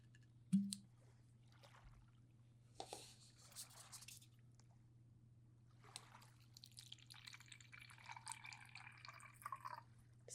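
Water drips and trickles quietly, with a few soft pours and squishy splashes over a low steady hum.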